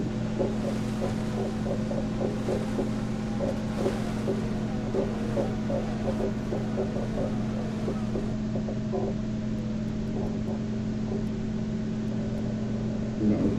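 In the F1 2020 racing game, a Formula 1 car's engine drones at a steady, even pitch on the grid before the Australian Grand Prix start, with small blips in the mix and no one talking.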